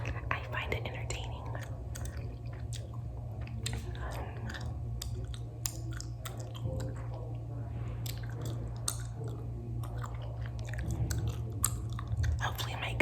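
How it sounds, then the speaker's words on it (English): Gum chewing close to the mic, with continuous wet smacking and crunchy clicks over a low steady hum, while a voice whispers throughout. "Hopefully my gum chewing is covering the interruptions."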